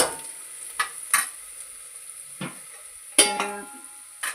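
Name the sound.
onion frying and being stirred in a pan for cauliflower pulao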